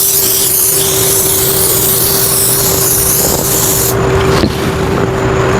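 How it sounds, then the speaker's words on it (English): A steady, loud hiss of aerosol spray adhesive runs continuously throughout, with a low mechanical hum beneath it and a brief shift in tone near the end. "spray both sides fairly generously"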